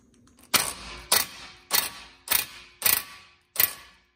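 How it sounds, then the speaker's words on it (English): A ratchet wrench loosening the front tie rod end bolt on a Porsche Cayman 987, heard as six sharp, close mechanical clicking bursts spaced about half a second apart, with no talking. "Now we're gonna go ahead and loosen up this tie rod end bolt"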